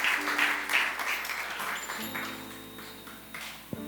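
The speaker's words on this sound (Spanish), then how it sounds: "Dale un aplauso al Señor. Dale un aplauso." A church congregation claps together at a worship service, a broad wash of applause filling the room for a few seconds before fading, with tonal hum and a brief instrumental note near the end.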